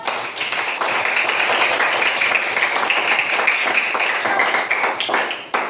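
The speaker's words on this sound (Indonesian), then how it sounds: "Go, tepuk tangan. Mantap, lebih keras." Third-grade primary school class clapping their hands louder on the teacher's request, a bright, sustained patter of many small hands in a classroom, continuous and close until a brief dip near the end.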